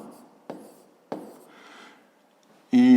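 Pen strokes write numbers for a fifth-grade math exercise, two short taps and a soft scratch of writing, close and quiet, before a voice starts abruptly at the end.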